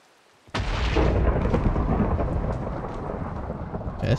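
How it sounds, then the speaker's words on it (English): Thunder and rain in the game Minecraft: a sudden loud thunderclap crashes in after a quiet moment, then a heavy rumbling downpour fills the rest of the stretch, dense and steady. "That sounded like thunder. A thunder explosion."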